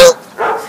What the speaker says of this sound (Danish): Lorte hunde!